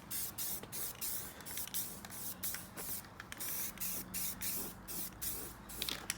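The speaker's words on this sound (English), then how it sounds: "We're just gonna start spraying some primer." Repeated hissing bursts of an aerosol spray can applying primer to a car outdoors, short sprays in an irregular rhythm, close and fairly loud, with no talking.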